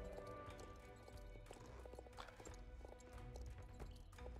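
Steady clip-clop of a horse's hooves while riding in the online horse game Star Stable, an even trotting rhythm that stays close and clear throughout, with no voices.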